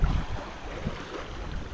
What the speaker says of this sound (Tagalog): Lakas ng hangin, lakas ng alon.